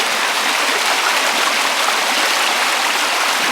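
A small babbling brook near Lake Padden runs over rocks, giving a steady, close, broadband rush of moving water that holds even and continuous throughout, with no voices.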